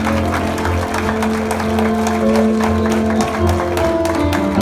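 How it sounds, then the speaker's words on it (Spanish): A church congregation applauds steadily at the close of a worship gathering, dense continuous clapping with sustained musical tones underneath. "Denle fuerte el aplauso al Señor."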